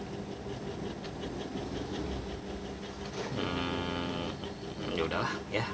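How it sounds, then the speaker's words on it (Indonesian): An electric fan runs indoors, giving a steady, moderately loud whirring hum with a faint rattling texture throughout. "Dengar nggak sih suara kipas anginnya?"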